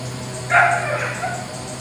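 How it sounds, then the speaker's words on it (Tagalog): A single brief dog bark sounds at moderate distance over a steady low hum, followed by a fainter yip. "Ay, may aso."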